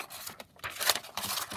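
Scissors snip through paper for a junk journal pocket, giving a few short, soft crisp cuts and rustles close by in a quiet room.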